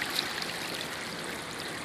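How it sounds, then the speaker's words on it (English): Floodwater pours out after a Hurricane Florence levee breach in Lumberton, a steady broadband rushing roar of moving water, close and continuous with no talk. "you see how that water is just pouring out"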